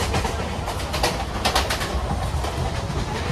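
A crowded commuter train rumbles along at speed, giving a loud, continuous broadband roar with faint rhythmic rattling of the cars and no talk.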